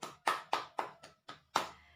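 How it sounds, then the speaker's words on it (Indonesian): Students in a classroom clapping, heard as about seven separate, distinct claps at a slightly uneven rhythm, fairly quiet and somewhat distant. "Tepuk tangan untuk Andri"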